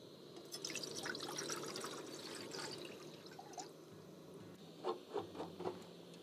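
Boiling water pours into a food pouch with a gurgling liquid stream, followed by a few soft sloshing splashes near the end, all fairly faint and close.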